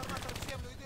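Rapid automatic gunfire from the video game Call of Duty: Black Ops III, a dense stream of shots filling the whole moment with no pauses.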